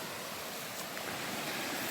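A creek flows over rocks along a pine forest trail in Andover, New Hampshire, a steady, close rushing wash of water with no voices.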